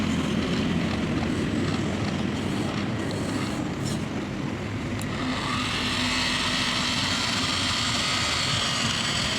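A Swaraj tractor engine strains and drones steadily while hauling a trolley loaded with harvested eggplant uphill, a loud continuous rumble with road and wind noise, no voices.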